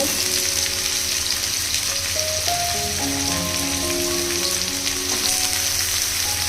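Papaya, carrot and potato, with drumstick, frying in hot oil for a Bengali shukto. A steady, close sizzle and crackle runs unbroken the whole time, with no talking.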